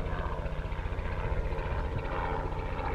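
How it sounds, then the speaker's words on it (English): A helicopter flying overhead, a loud continuous rotor and engine drone with a steady throbbing pulse throughout. "perfect time for a helicopter."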